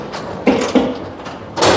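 A Wayne Dalton 8000 garage door sliding on its track knocks against the rail, a few sharp thumps and rattling bangs over a low rumbling run.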